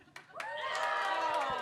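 A live show audience for International Nurses Day bursts into cheering and shouting after a short pause, and the crowd noise swells and holds loud to the end.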